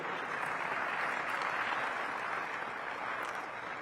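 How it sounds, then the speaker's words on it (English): Steady audience applause rises at a Washington DC economic partnership annual meeting, a dense, even wash of clapping heard at a distance with no voices over it. "We can clap for that,"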